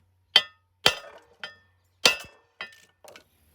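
Six separate sharp metallic strikes ring out as a hammer peens metal on the anvil of a bench vise during a repair of an International 430 small square baler, spaced irregularly and close, with short ringing decays between them.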